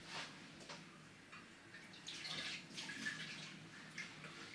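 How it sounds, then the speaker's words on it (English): Water splashes and runs as a pan is rinsed out with a little water while making Jamaican green plantain porridge, a steady close wash of sound with no talking. "rinse out the pan just like this with a little bit of water."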